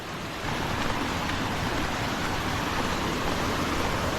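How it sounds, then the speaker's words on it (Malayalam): A forest stream beside a rubber plantation path flows in a steady, close rushing wash of water, with no voices. "നല്ല രസമുണ്ട് വെള്ളം ഒഴുകി വരുന്നത് കാണാൻ"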